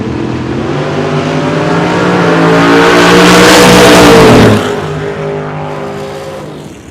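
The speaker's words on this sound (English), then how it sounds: "565 cubic inches of Matt Driscoll big block Chevrolet under the hood of that Malibu" A 1978 Chevrolet Malibu drag car with a 565-cubic-inch big-block Chevrolet roars loudly at a no-prep drag race at Ozark Raceway Park, its rising harmonic engine note building for about four seconds before cutting off abruptly.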